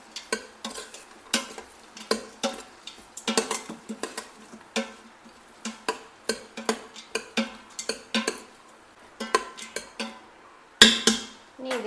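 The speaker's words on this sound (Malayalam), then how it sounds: "ഒന്ന് ഇളക്കി കൊടുക്കാം." Tomato stirred in a pan for paneer biriyani, a spoon scraping and clinking against the pan in a steady series of sharp taps, close and clear with no talking.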